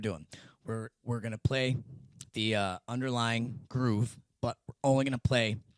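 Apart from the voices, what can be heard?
None of the usual background noises is heard.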